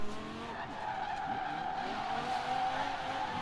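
Tires squeal steadily as a car drifts sideways on the e-brake in Forza Horizon 4, a sustained, fairly loud skid over a humming engine, with no voices.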